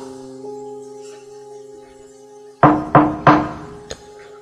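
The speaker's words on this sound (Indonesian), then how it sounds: "Suara pintu diketuk." Three firm knocks on a door, close and loud, then a lighter fourth tap, over a quiet sustained musical drone.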